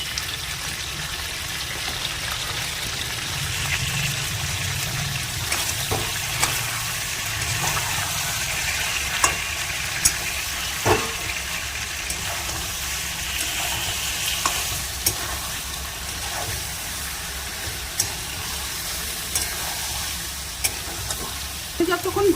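Ginger-garlic paste fries in a pan for chicken korma, giving a steady, close sizzling hiss with occasional stirring clicks and scrapes throughout, with no talking.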